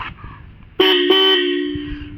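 A modified Royal Enfield Standard 350 motorcycle horn sounds close and loud, a brief toot followed by a sustained steady blare.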